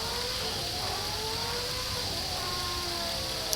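A Honda V10 engine of a 1991 Formula One car fails in a sim racing game, its whine sliding and fading in pitch beneath a steady wash of loud noise, with no one speaking.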